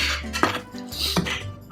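A spatula scrapes and clinks against a metal pan while lifting a slice of gluten-free Chicago-style deep dish pizza, giving two sharp close metallic knocks over soft scraping.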